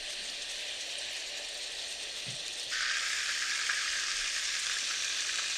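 Chicken frying in hot oil in a home kitchen pan for a potato chicken curry: a steady, soft crackling sizzle that grows denser and brighter partway through, with no voices.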